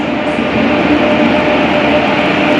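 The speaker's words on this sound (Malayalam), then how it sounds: "നമ്മുടെ ചണ്ഡീഗഡ് വണ്ടി ഇതേ വന്നു ഇതാണ് നമ്മുടെ വണ്ടി" Loud, steady rumble of a train arriving at a station nearby, a continuous broad roar with a faint metallic tone, no voices.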